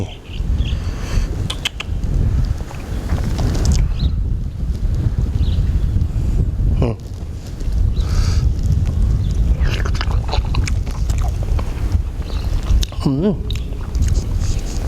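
Gusty wind buffets the microphone outdoors, a low rumbling roar that swells and fades across the whole stretch while someone talks over it.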